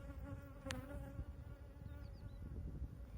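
Honey bees at a Layens beehive hum in a steady, close drone with individual buzzes passing in and out. A brief click sounds early on.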